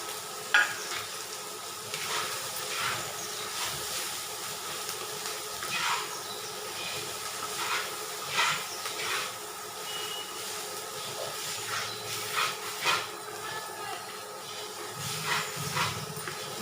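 Okra and chilies fry in a pan with a constant hiss and sizzle, broken by irregular scraping and stirring clatters from close by, fairly soft and with no voices.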